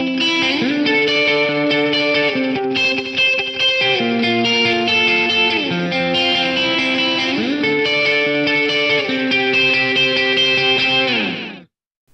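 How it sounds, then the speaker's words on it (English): Guitar through an Eventide UltraTap pedal set to a classic four-head echo, sustained chords and notes repeating in layered, closely spaced echoes with a wide wet tail, loud and continuous for about eleven seconds, no voices. "But let's go for the classic 4-head echo."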